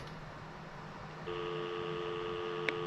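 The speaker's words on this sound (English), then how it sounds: "Dial tone." A steady payphone dial tone starts partway through and hums on continuously over faint room noise, with a brief click near the end.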